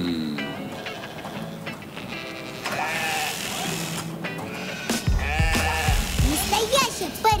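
Cartoon sheep bleating at a sheep shearing and grooming shop, several wavering bleats over a busy bed of music and sound effects, with a deeper rumbling sound joining near the end.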